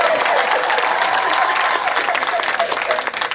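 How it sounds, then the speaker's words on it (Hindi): Live audience clapping at a Hindi comedy show, a lively burst of applause under scattered voices and crowd noise, fairly loud and close throughout. "ताली बजाओ।"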